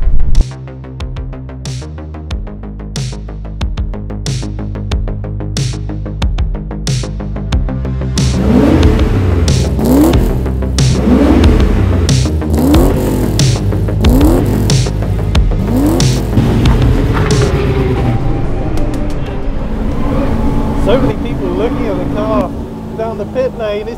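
Group A TWR Rover SD1 race car engine revving loud and close, with repeated throttle blips that rise into sustained high-rpm pulls, while someone talks over much of it.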